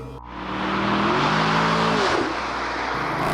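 A 2019 Chevrolet Camaro engine roars loudly and close, revving up in a rising snarl and then dropping back, with a rough grunt as the pitch falls away.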